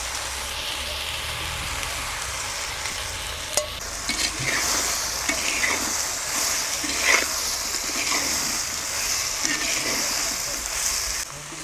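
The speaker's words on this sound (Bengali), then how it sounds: "লাউ আর ডালকে একটু কষিয়ে নিয়েছি" Bottle gourd and masoor dal being sautéed in a pan, with a steady close sizzle and scraping stir strokes running throughout.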